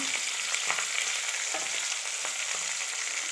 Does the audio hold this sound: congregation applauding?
no